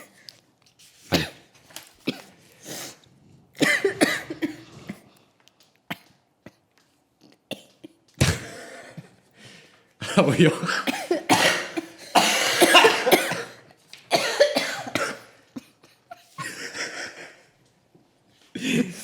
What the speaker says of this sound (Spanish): ¿Puedes parar de toser?